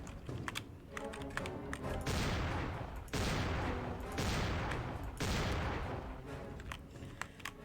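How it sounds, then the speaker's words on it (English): Bursts of video game gunfire aimed at Michael Myers, in dense rapid volleys that come in several long loud stretches, with clicky tapping sounds between them. "I'm gonna shoot you and kill you this time for realsies"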